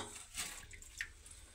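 Water drips and trickles faintly into a dug pit, with a few soft, separate drops and a light splash over quiet background.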